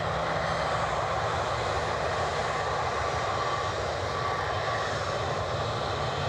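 A Boeing 777 airliner's jet engines produce a steady, broad roaring hiss with a faint high whine, heard from a distance as a continuous, even rush with no talk.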